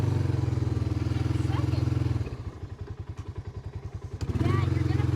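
A Honda Fourtrax ATV engine runs close by, holding a steady loud idle, then dropping into a lumpy, pulsing chug before returning to a smooth idle, with voices partly heard over it.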